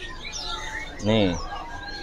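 Caged birds at an Indonesian bird shop chirp and whistle in the background while someone speaks briefly over them in the middle.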